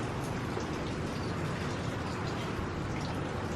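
Steady rain pours onto garden plants such as peppers, chives and basil, a dense, even patter with no pauses that stays at the same loudness throughout.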